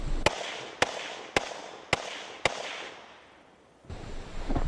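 Five sharp, loud P90 gunshots ring out at an even pace while targets are engaged on a tactical course, each a crisp crack with a short tail, followed by a pause and then a rising rustle of movement.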